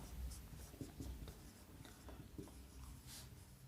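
Strokes of writing on a board in an engineering mechanics class give short scratchy rubs with brief pauses, close and clear, with no voice over them.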